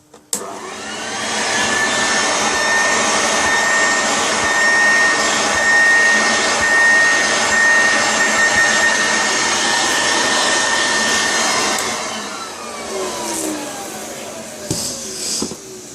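A Hoover Junior vacuum cleaner runs with a hose tool attached, giving a loud, steady whine with a sustained tonal hum for about twelve seconds before winding down, followed by a few faint knocks.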